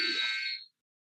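Basketball end-of-quarter buzzer at a girls varsity game, a single loud electronic tone lasting about half a second before cutting off into silence.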